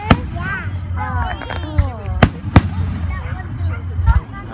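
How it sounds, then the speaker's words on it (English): Fireworks explosions: several sharp, loud bangs spaced a second or so apart, mixed with people talking over them. "Light gets to us before the sound of this explosion."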